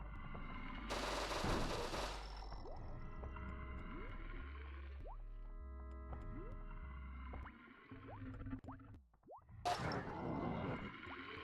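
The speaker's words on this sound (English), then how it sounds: "Shooting a couple naked men." Gunfire from the video game Cruelty Squad, with bursts of loud shots and layered electronic game sounds and music, dense and continuous with a brief lull near the end.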